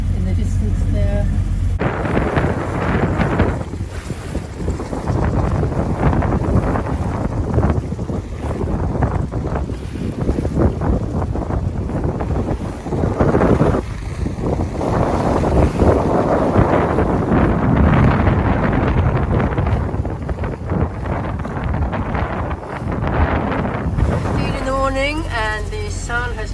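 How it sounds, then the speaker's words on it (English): A boat motors toward an island at sunrise through strong wind, steady engine drone and loud wind buffeting on the microphone with waves washing by throughout; a voice talks over it. "We're motoring towards Clarion Island, and we're about 4 miles off still"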